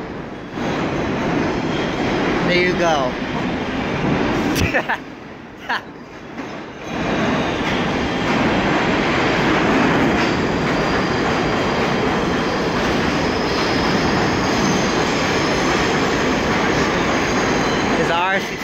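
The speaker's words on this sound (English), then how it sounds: "This R68D train bypassing the town." An R68D subway train passes close by with a loud, sustained roar and rumble of wheels and cars that runs almost the whole time, and a voice speaks briefly over it.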